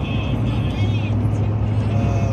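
A car overtakes a truck on a highway, with steady engine drone and wind roar from inside the cabin, plus a higher whine at the start.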